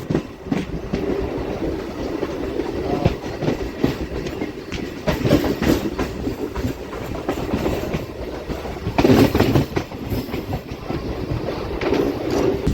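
MEMU passenger train on the Renigunta to Nellore line, running steadily on rails with a loud continuous rumble and rhythmic clickety-clack of wheels over joints, heard from inside the coach without talk.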